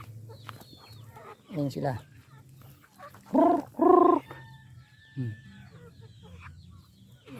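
Rhode Island Red chickens cluck nearby in a few loud, separate bursts, with a person speaking briefly between them.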